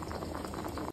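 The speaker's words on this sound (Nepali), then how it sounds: "यहाँ चाहिँ मेरो भात उम्लिँदैछ" Rice bubbling in a pot on the stove, a steady close burble of boiling water with soft rhythmic popping, heard alone for a brief moment.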